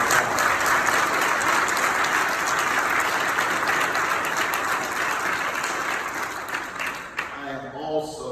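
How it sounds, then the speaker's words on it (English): Sustained audience applause at an MLK commemorative service, a dense steady wash of many hands clapping for several seconds before thinning out near the end. "Give her another round of applause."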